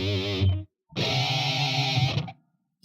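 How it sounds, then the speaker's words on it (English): Harsh, distorted electric guitar tones ring out loudly, a short burst followed by a longer sustained note with a slight wavering quality. "Distortion scream vibrato."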